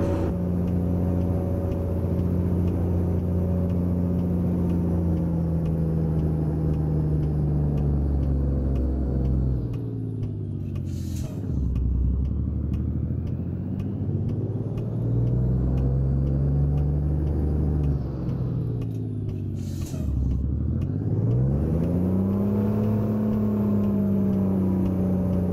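A truck backing up a trailer in American Truck Simulator rumbles with a low, steady engine, throttle swelling and dropping in two slow cycles, dipping to near idle between pushes.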